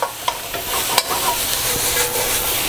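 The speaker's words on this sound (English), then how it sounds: "Okay, we're sauteing our veg" Vegetables for beef fajitas sauté in hot oil, a close, bright continuous sizzle punctuated by a few sharp stirring clacks and scrapes.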